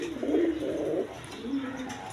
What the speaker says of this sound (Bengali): একদম আমেরিকান লক্ষা কবুতর